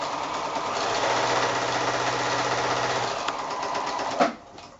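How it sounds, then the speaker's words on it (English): A sewing machine stitches a quarter-inch seam joining novelty 5-inch quilting squares, a steady close mechanical whir that stops after a few seconds and gives way to light handling clicks. "flipping that one over and sewing this seam here, and then back to the sewing machine"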